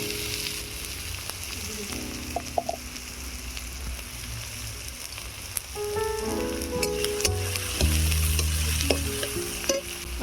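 Chopped onions fry in mustard oil in a wok, a steady sizzle with intermittent scraping and clinking stirs, growing a little louder toward the end, with no voices.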